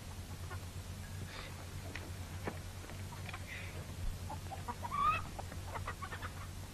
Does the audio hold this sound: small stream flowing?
no